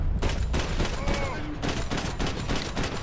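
Repeated pistol shots ring out in Max Payne 3, loud irregular bangs spaced through a busy firefight with echoing tails.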